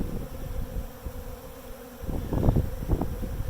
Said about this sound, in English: here are the bees dining on the pollen substitute